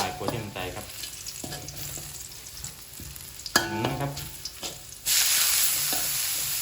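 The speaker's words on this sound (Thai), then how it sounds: "นำกระเทียมลงเจียวให้หอมเหลือง แต่เราใช้ไฟกลางค่อนไปทางอ่อนนะครับ" Chopped garlic frying in oil over medium-low heat until golden, a soft, steady sizzle with a few scrapes and clinks of a stirring utensil, close by, swelling to a louder hiss near the end, with no talking.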